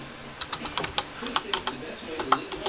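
Quick keyboard typing for an iOS Veency setup, a close, light patter of irregular key taps with no voice over it.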